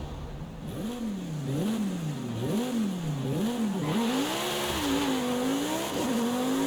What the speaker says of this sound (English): Still sounds like the V10 though